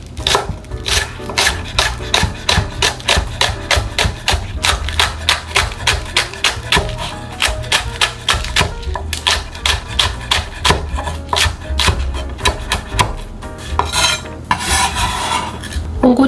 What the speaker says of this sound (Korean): 국이 들어갈 대파는 너무 크지 않게 송송송 잘라주세요.